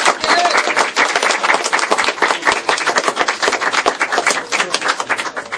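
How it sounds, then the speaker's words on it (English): An audience at a campaign office grand opening claps for a chairwoman, loud sustained applause filling the room throughout. "Please, nice round of applause for Chairwoman Peg Schaffer."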